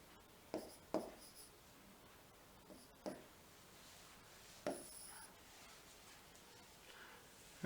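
Chalk or pen writing on a board in a lecture setting, with a handful of separate taps and short strokes spread out with pauses between them, faint and close.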